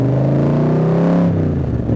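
Superformance 1965 Shelby Cobra replica's engine revs loud and close while driving, a rising droning roar that drops sharply as a gear shifts partway through.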